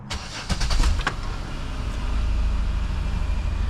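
A Saturn Aura sedan, raised on ramps, cranks with a short burst of starter clatter before the engine catches and settles into a steady, close idle with no voices.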